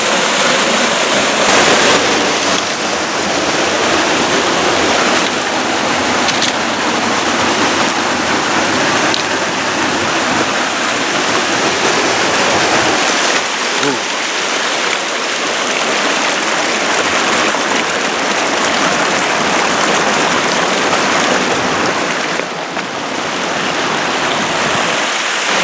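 White water in a San Bernardino Mountains stream rushes loudly and steadily from start to finish, a dense, broad roar with no break and no voices.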